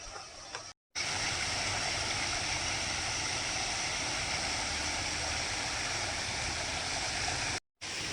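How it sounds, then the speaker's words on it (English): A small waterfall beside the entrance to a nature center at Red Oaks Park pours in a steady, full rushing wash of water, close and continuous, with no voices. "as I was entering there was a nice little waterfall on the right side."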